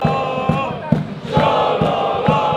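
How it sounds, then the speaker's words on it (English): Finnish hockey arena crowd roaring and chanting in rhythmic bursts, with regular loud thumps punctuating a sustained, energetic wall of voices. "as you can tell, the Finnish crowds are already super amped up"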